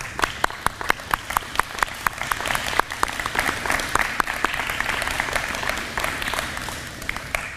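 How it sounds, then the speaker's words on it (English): Applause for National Honor Society inductees at an induction ceremony: sharp, distinct handclaps from a modest crowd, evenly paced at first and then filling into a denser patter, fairly near and sustained. "please recognize yourselves with a hearty round of applause"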